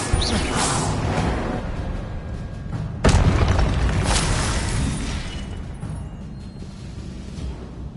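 A spell effect from the Hogwarts Legacy video game: a loud booming burst with a swishing whoosh hits about three seconds in and is followed by a sustained, noisy rumble that slowly fades.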